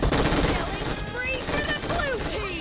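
Rapid bursts of MG3 machine gun fire in PUBG Mobile, loud and dense, rattling almost continuously across the moment with a few short gaps.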